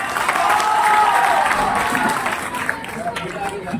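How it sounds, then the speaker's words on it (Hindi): A school Teacher's Day audience claps loudly to welcome a poet to the microphone, a thick sustained wash of applause with some crowd murmur and voices that gradually thins toward the end. "जॉन इलिया साहब माइक पे आपकी जोरदार तालियों के साथ"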